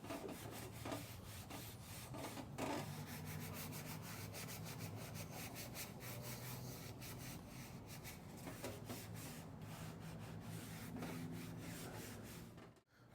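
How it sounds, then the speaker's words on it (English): A rag wipes a boat floorboard clean before SeaDeck material goes on, producing a steady, close rubbing and scrubbing that runs almost without a break and stops abruptly at the end. "we'll just put it on a rag here and then just wipe this floorboard clean"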